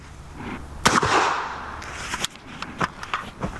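A suppressed 300 Blackout bolt-action rifle fitted with a short TPM SDK K suppressor fires one sharp, loud crack near the one-second mark, followed by a decaying tail and a few lighter clicks of bolt handling.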